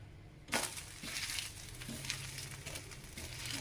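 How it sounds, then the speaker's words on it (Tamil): Millet (kambu) dosa flips on a hot pan with a sudden soft slap, followed by a continuous quiet crackling sizzle. "இப்போ நம்ம திருப்பிக்கிடுவோம்"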